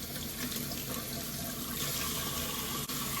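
Cold tap water runs steadily over broccoli in a kitchen sink, a continuous close splashing hiss without pauses.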